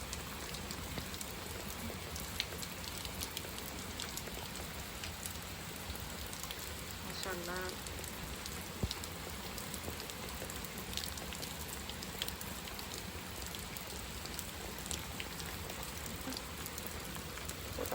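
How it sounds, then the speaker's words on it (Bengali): Steady rain falls in Bangladesh, a continuous close pattering on surfaces with scattered louder drips and a faint bird call partway through. "সকাল থেকে বাংলাদেশ আছে বৃষ্টি হচ্ছে"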